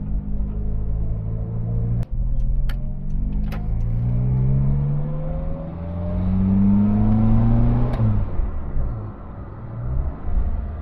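A Leyland Marina six-cylinder car rounds a bend, its engine rumbling loudly and steadily from inside the cabin, the pitch rising and falling with throttle, with a few sharp clicks near the start.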